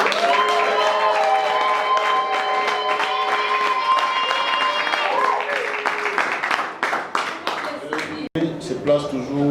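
At a civil wedding ceremony, guests clap and cheer over loud music, with a scattering of handclaps that grows busier toward the end while talk continues.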